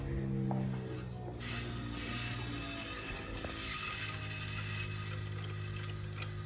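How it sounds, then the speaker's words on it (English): An electric fuel pump feeding a custom surge tank on a turbocharged Mercedes M104 engine hums steadily at a low, constant pitch, with faint mechanical clicks and whirring over it, fairly quiet. "so let's turn on this pump so we can check for any leaks leading to the engine bay"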